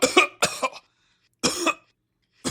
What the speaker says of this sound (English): coughed violently